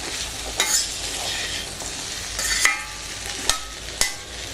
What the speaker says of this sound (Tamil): சிம்மில் வச்சிட்டிங்கன்னா நல்லா கொஞ்சம் கொஞ்சமாக வதங்கி நல்லா ஆயில் வந்து நல்லா ரிலீஸ் ஆகும்